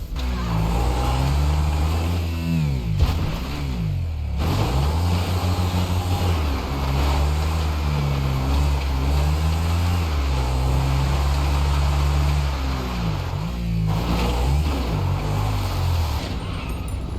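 A car engine in the video game GTA San Andreas revs and drones continuously, loud and steady, with pitch shifting up and down as it accelerates and eases off, with no speech.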